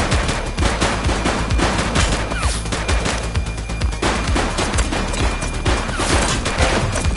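Sustained gunfire in The Precinct, a police video game: dense, continuous bursts of automatic shots close up and loud, overlapping with sharp cracks for the full stretch without pause.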